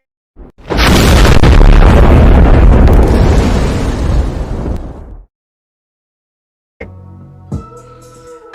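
A big, loud game-show sound effect for a golden grenade: a long booming explosion rumbling for about four seconds before cutting off, then a short burst of bright electronic tones after a pause.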